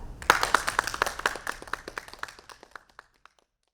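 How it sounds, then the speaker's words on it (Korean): At a corporate social responsibility conference, the audience greets a POSCO executive coming on stage with clapping. The burst starts dense and fairly close, then thins into scattered sharp claps before dying away, with no talk over it. "여러분 힘찬 박수로 맞이해 주시기 바랍니다."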